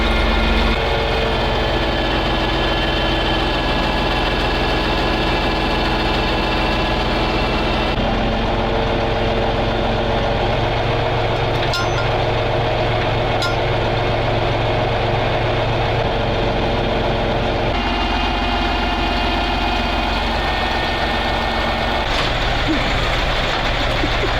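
The YaMZ diesel engine of a ZIL 4975 truck runs with a deep, steady idle rumble, shifting pitch partway through, with occasional faint voices in the background.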